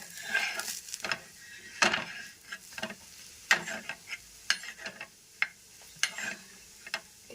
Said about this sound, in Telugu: ఇలాగ మనకి మంచి బ్రౌన్ కలర్ వచ్చేంత వరకు కాల్చుకోవాలండి.